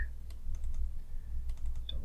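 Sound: computer keyboard typing a shortcut to paste

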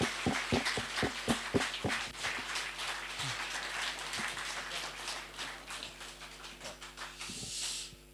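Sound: applause

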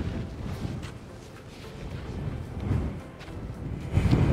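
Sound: strong wind by the sea

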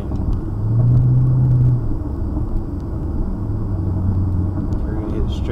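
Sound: Hyundai Genesis R-Spec engine and Borla Pro XS mufflers exhaust

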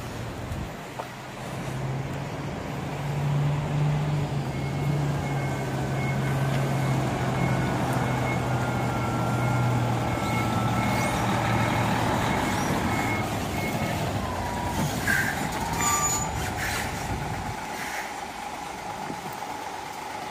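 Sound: new Hino 10-ton truck maneuvering with reversing beeps

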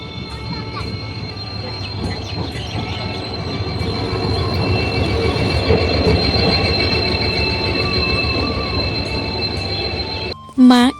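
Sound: train arriving at a railway station

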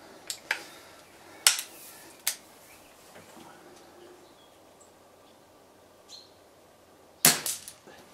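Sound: Walther LGU air rifle being shot

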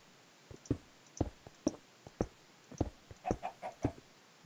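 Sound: chicken clucking in the video game Minecraft

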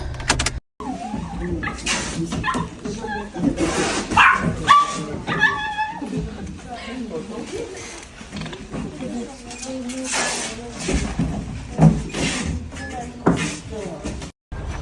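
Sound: dog barking

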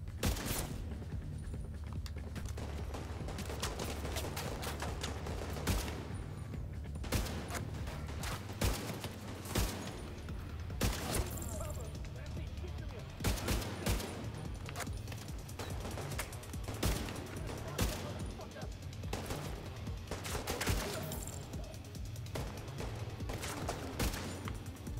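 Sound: gunfire from the video game Division 2

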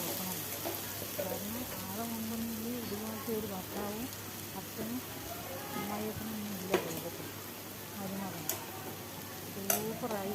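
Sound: stirring powdered chapati upma in a pan

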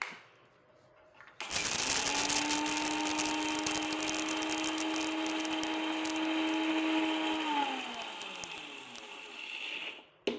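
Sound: grinding fenugreek seeds in a mixer

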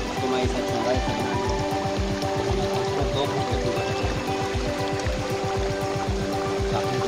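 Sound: Baghmara waterfall

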